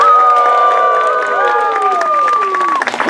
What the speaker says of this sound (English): And the king goes away to thunderous applause.